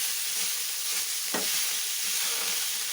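Tomato frying in a pan for sambar gives a constant bright sizzle with a single quick knock of a spoon partway through.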